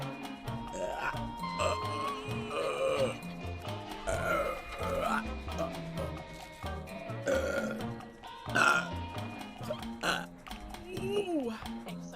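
Repeated loud burps from a young woman streaming online, several deep, croaking eructations spread across the stretch, with her talking and laughing between them.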